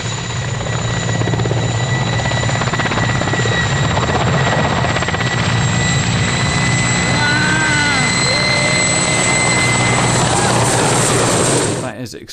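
A helicopter in DCS World hovers with its rotor tip cutting grass, giving a loud, steady, close rotor roar with whining engine tones that holds for about twelve seconds before cutting off, with talk over it.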